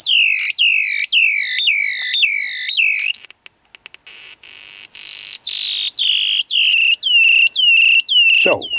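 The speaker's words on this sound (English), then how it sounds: "bird's chirp generator here driven via that voltage that is going out of the timer" An electronic bird-chirp generator driven by a multivibrator timer chirps loudly in fast, regular repeated sweeps. After a short pause broken by a few clicks, the chirping resumes with a slightly different, denser rhythm.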